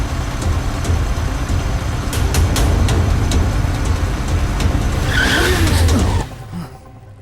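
A car turning sharply skids with a loud, sustained engine roar and rising tire squeal, ending in a short squeal before the noise suddenly drops away.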